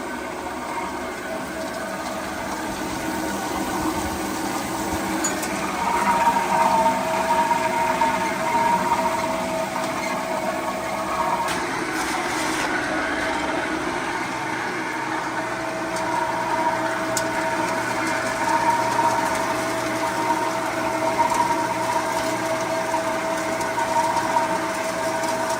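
A gold wash plant with a jigging sluice runs steadily, its engine drone and rattling machinery forming a continuous mechanical hum with water movement, loud and unbroken throughout with no talk.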